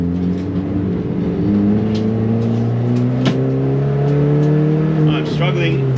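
A Peugeot 206 engine revs hard and loud, its pitch climbing and falling through sustained runs, with a voice talking over the engine.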